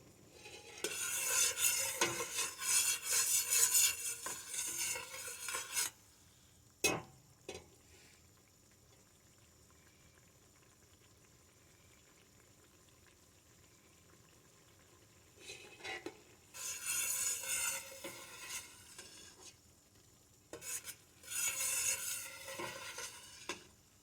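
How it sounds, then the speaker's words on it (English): A spoon stirs a pot of fish and corn chowder, with bursts of scraping and clinking against the pot and quiet pauses between, close and moderately loud. "make sure you keep stirring it so nothing sticks or burns"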